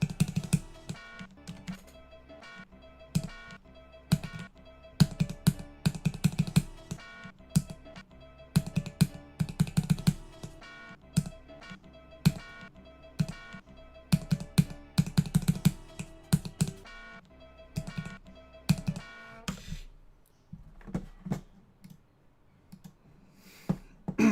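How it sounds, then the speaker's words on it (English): Rapid, uneven typing on a Corsair K70 mechanical keyboard with Cherry MX Red switches, dense bursts of close keystroke clicks with brief pauses and a sparser stretch near the end, with no talking. "I have a Corsair K70 with Cherry MX Red switches."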